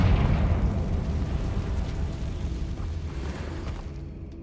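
A Confringo fire spell explodes in the video game Hogwarts Legacy, a loud, deep rumbling blast that decays slowly into a fading roar over a few seconds.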